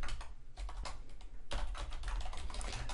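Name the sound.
typing on a computer keyboard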